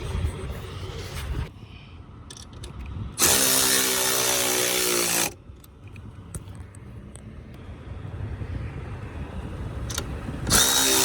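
Tightening 13 mm bolts on the front air shock of a 2002 Mercedes S430 with a power tool: two loud, whirring bursts, one brief and one about two seconds long, separated by quieter shop noise.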